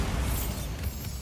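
A Bombarda blasting spell explodes in Hogwarts Legacy, a dense, rumbling blast that fills the short moment loudly with broad, noisy energy.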